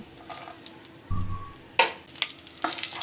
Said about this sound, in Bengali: এবার আমি ওই তেলের মধ্যে দিয়ে দেব কালো জিরে।